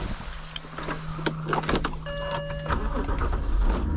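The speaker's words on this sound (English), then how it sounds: "here's some driving clips with a microphone underneath the hood" A BMW N52 straight-six fitted with velocity stacks, recorded from under the hood while driving, gives a steady close engine drone with a rising intake tone and brief mechanical rattles.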